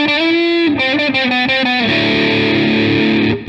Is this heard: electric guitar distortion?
yes